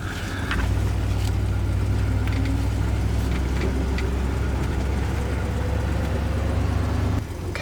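A police car's engine holds a steady, loud low idle hum for several seconds, then shifts near the end as the car pulls away from a stop; no one speaks.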